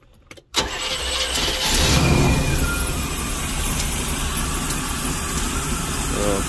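A motor home engine, freshly tuned at the carburetor and distributor, catches after a brief start and settles into a loud, steady idle close by, rumbling evenly for several seconds.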